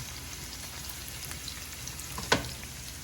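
Onion and garlic frying in a pan for a bitter gourd and egg lunch, a steady close sizzle with a brief louder crackle near the end.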